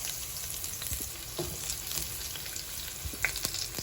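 Garlic and onion sizzle in rendered pork fat for ginataang labong, a continuous close crackle with occasional stirring clicks.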